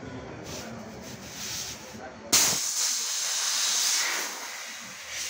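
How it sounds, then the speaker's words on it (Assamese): Pressurised gas blasts through the condenser of a Godrej 190 L single-door fridge during cleaning, a sudden loud, sustained hiss that cuts in partway and continues steadily, with faint background noise before it. "এই লেতেৰাখিনি আমি গেছ মাৰি কণ্ডেনচাৰ ৱাছ কৰিম"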